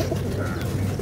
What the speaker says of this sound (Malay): Hati-hati sekarang bagi makan burung merpati pun boleh kena saman